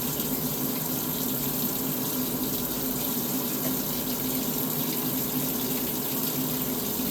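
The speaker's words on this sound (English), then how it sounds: "we're going to very quickly run under hot water while the stove is heating up" A kitchen tap runs hot water steadily to rinse a steak while the stove heats, a continuous close rushing stream with no talking.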